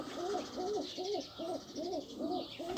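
Racing pigeons coo close by in a steady run of about seven soft, rolling calls at an even rhythm over faint room noise.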